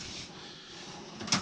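A cabinet drawer in a garage workshop opens or closes with a single short clack near the end, after a stretch of low room noise.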